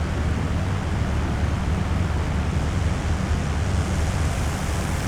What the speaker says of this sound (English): we've got some nice wind effects as well at the back of the aircraft